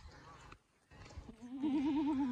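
A white goat bleats out in a farm field, one long, wavering, fairly loud call rising over low background noise after brief rustling.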